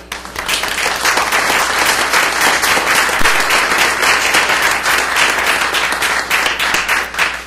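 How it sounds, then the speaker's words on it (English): Loud, sustained applause from the audience at a school board meeting, dense overlapping claps from many people holding steady for several seconds, with no talking over it. "let's give you a round of applause"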